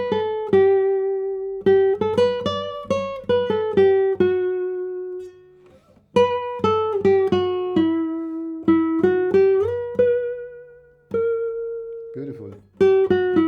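Plucked acoustic guitar notes ring out in a bright, sweet melody, each note sustaining and fading before the next phrase, played alone.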